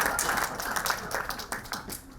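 Applause from an audience at a speech by a Ugandan brigadier general, a dense, continuous patter of many hands at moderate distance, steady throughout with no voices over it.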